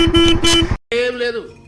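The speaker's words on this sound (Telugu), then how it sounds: "హారన్" Horn of a Royal Enfield Himalayan 452 motorcycle, two loud close honks, a short blast followed by a longer one, heard alone.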